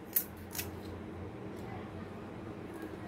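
Kitchen scissors trim the sides of a scaled fish being prepared for frying, giving two sharp, close snips near the start, then a quiet steady background hum.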